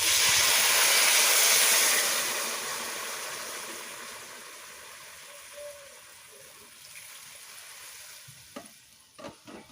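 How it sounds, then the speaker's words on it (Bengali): Water pours into hot spiced masala in a pan for a Bengali fish curry with drumsticks, setting off a loud burst of hissing steam that fades into a quiet simmer, with a few soft knocks at the end. "এবার আমি পরিমাণ মতন জল দিয়ে দিচ্ছি।"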